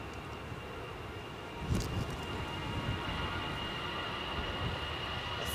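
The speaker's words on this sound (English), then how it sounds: "Will the train make it in time?" A train passes near Edinburgh Airport on a windy day with 40 mph gusts, a faint, continuous rumble and rush of wheels over the rails, with a brief bump partway through and no voices.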